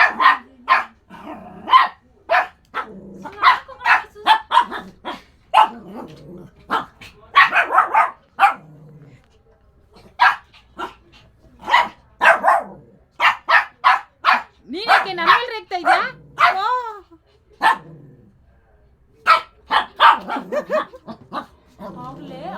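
A dog barks in short, repeated bursts, close and loud, mixed with excited whimpering yips, with people talking throughout.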